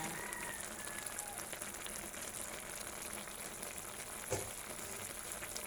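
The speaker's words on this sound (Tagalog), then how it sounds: "Kumukulo na siya." Soup with sweet potato and moringa leaves bubbles and crackles continuously in a pot, a steady fizzing simmer with a single faint knock partway through.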